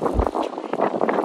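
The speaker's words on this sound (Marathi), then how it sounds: "आणि वारा पण जाम येते" Strong wind buffets the microphone at the seaside, a loud continuous roar with gusty surges across the whole moment.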